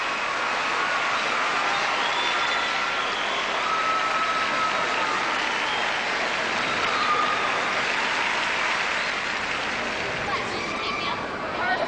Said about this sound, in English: The crowd on their feet, chanting for another 10.